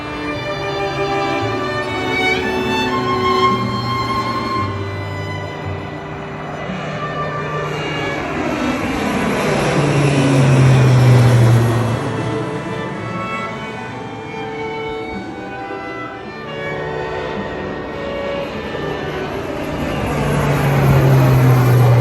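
A crop duster airplane passes low over an Idaho campsite, its engine drone swelling louder toward the middle as it comes overhead, then fading and building again, alone with no talk.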